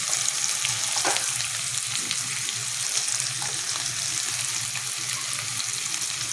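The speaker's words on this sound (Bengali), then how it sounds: "সবজিগুলো কিছুক্ষণ ভাজার পর এবার আমি ক্যাপসিকাম, টমেটো এই দুটো দিয়ে দিচ্ছি" Chopped vegetables with capsicum and tomato fry for veg chow mein. A continuous close sizzle and hiss carries light stirring clinks and taps throughout, with no talking.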